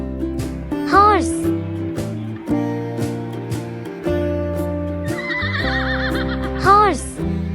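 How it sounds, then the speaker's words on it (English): A farm horse neighs loudly in two bright, wavering whinnies over upbeat backing music, with a faint clip-clop of hooves underneath and no voices. "Horse."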